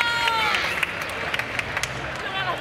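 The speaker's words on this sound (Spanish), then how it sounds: "Un aplauso, por favor, un aplauso." Audience applause for an arm-wrestling duel at a charity contest, dense clapping from a crowd running continuously, with sharper individual claps popping out and an announcer's voice over it.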